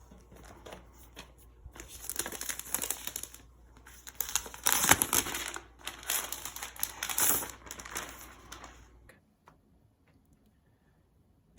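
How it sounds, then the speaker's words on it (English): Protective plastic film is peeled off a new 2020 13-inch MacBook Pro, producing close, crackling crinkles and rustles in irregular bursts that peak midway and then fade to quiet. "we do have a little tab here to take off the plastic"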